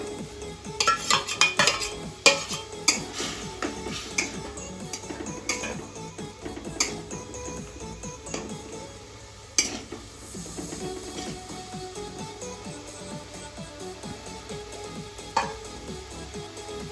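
Potato-stuffed bitter gourds go into a pan and are stirred, with repeated scraping and clattering of a utensil against the metal over a soft sizzle, close and steady throughout with no talking.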